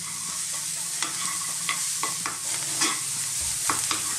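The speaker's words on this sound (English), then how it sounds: "we're going to stir fry these in this kind of dryish wok for about another 2 to 3 minutes" Beef and green beans stir-frying in a nearly dry wok, a steady bright sizzle with repeated scrapes and clacks of the spatula tossing the food at an uneven rhythm, close and fairly loud.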